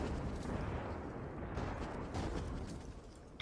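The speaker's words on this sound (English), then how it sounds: "Only hearing the explosions?" Dense, continuous roar of overlapping explosions and booming bursts from the video game Beat Hazard 2, loud and steady throughout with no clear gaps between blasts.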